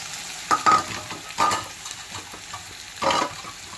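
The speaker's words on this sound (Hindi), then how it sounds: "अब मैं इसमें डालूँगी प्याज।" Onions stirred in hot oil in a home kitchen, a soft steady sizzle under several louder scraping stirs of the spoon against the pan, close by.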